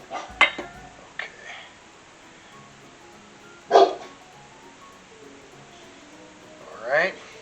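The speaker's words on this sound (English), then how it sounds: "Something got my doggies riled up." Dogs barking indoors in a kitchen, a few scattered barks and yips at moderate distance, rather faint and spread out, with a clatter of utensils early on.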